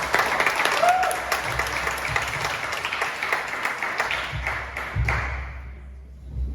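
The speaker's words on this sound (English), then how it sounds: "Big round of applause for Steve." Crowd applause at an outdoor miners' gala event, a sustained wash of clapping with a few sharp individual claps standing out, gradually fading away toward the end.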